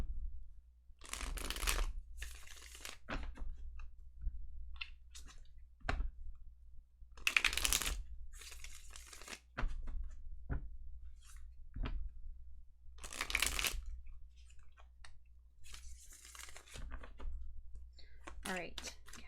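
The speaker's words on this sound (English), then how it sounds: "why can't I fucking shuffle?" Tarot cards are shuffled by hand in repeated bursts of riffling and flapping, close and crisp, with short pauses between attempts and occasional handling clicks.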